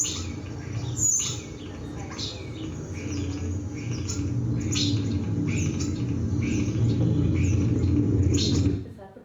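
Massed twittering and chirping of a large flock of European starlings, a dense continuous chatter over a low rumble that swells in loudness and then cuts off abruptly near the end.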